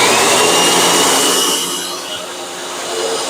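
A loud vacuum cleaner motor runs continuously with a harsh, broadband roar close to the microphone, dipping slightly in intensity midway before rising again.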